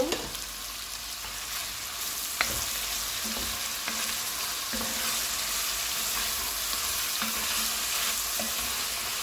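Tomato added to chicken and vegetables frying in a pot gives a loud, steady sizzle close up, with occasional clinks and scrapes from stirring and no talking.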